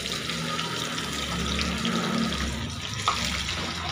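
Marinated tuna pieces, spiced for fish 65, frying in hot oil, giving a loud, steady, close sizzle that holds for the whole stretch with no one talking.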